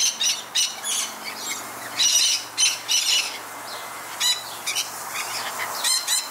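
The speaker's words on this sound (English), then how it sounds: "The birds are very, very friendly. They just come up and they jump right on you." Colorful friendly birds squawk and chirp in repeated harsh bursts close by, with intermittent calls over a faint ambient background; no talking.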